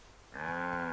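A cow moos once in the Assassin's Creed 3 video game, a sustained, loud, harmonic low at close range that starts after a short quiet moment and holds to the end.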